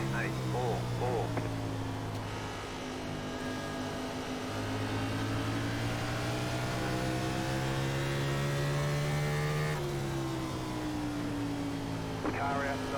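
Several NASCAR race car engines in the iRacing game at Richmond drone and shift pitch as cars run in a pack, steady and loud, with a spotter's voice talking over them.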